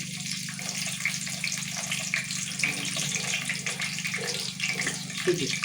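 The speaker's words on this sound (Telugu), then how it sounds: "ఆయిల్ కొంచెం వేడైన తర్వాత మనం ఫస్ట్ పచ్చిమిర్చి వేసుకోవాలి" Green chillies dropped into hot oil in a pan while making korameenu pulusu, a steady broadband sizzle and hiss running continuously throughout with small crackling pops, close and fairly loud, no talking.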